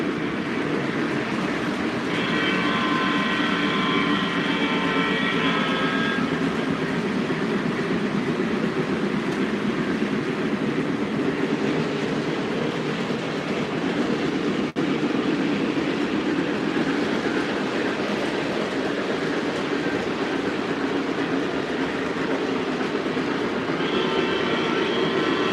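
Several O-gauge model trains run together on a layout, a steady close rumble and rolling clatter throughout, with brief high whistle or horn-like tones near the start and again at the end.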